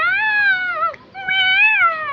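A voice imitates a cat, giving two drawn-out, rising and falling meows separated by a short pause, close and clear.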